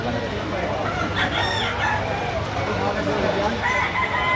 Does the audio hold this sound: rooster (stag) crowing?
yes